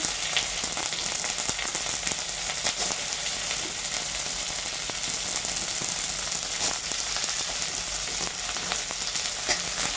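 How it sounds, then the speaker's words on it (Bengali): Chopped onions frying in oil in a pan, a dense continuous sizzle like steady rain, with occasional faint stirring clicks, close and constant throughout. "কাটা পেঁয়াজটা দিয়ে ভালো করে ভেজে নিচ্ছি"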